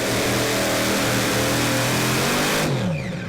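A tractor engine in the 2.5-ton class strains loud and close under load at a tractor pulling event in Brande, Denmark, holding a steady heavy roar before dropping away near the end as it bogs down on the track.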